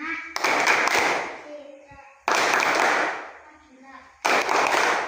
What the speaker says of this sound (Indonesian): Ibu akan mengecek kehadiran kalian dulu ya, dengan menggunakan tepuk absen. Tepuk absen.